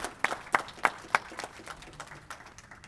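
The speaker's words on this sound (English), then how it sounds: "A round of applause for Michael, everyone." A small audience at a fast pitch competition gives applause, several sharp, loud claps standing out in a slow, spaced rhythm over softer scattered clapping that fades into a lighter patter.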